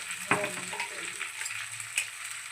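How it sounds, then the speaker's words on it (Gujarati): Hot oil sizzles steadily in a pan for the tempering of an okra curry, with a couple of sharp crackling spits standing out above the continuous frying hiss. "તો ભીંડાના શાકનો વઘાર થઈ ગયો છે"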